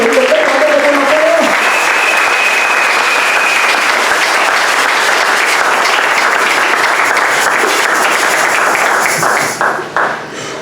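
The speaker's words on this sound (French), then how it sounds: "Est-ce qu'on peut applaudir pour le Seigneur?" A church congregation breaks into loud, sustained applause for the Lord, dense clapping that carries on for about ten seconds before tapering off near the end, with a brief tonal sound at the start.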